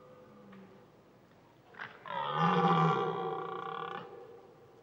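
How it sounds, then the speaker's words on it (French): A red deer hind in a clearing on the Aubrac plateau gives a harsh, belching roar-like grunt, a single sustained rough call lasting about two seconds, loud against quiet outdoor ambience. "une biche qui rote aussitôt pour manifester son agacement"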